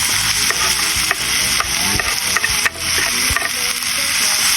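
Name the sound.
mustard greens added to sautéing tomatoes in a pan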